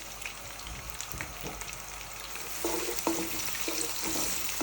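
Steady crackling sizzle of onions frying in hot oil for egusi soup, with occasional stirring scrapes, close by and moderately loud.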